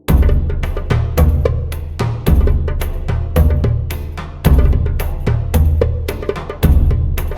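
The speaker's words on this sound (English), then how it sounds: "together, this whole drum section sounds like this" A loud drum pattern pounds out a steady beat, deep hits repeating in regular bars while bright jingling shakes ring on top.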